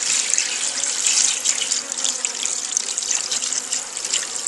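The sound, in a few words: liquid being poured into a beehive feeder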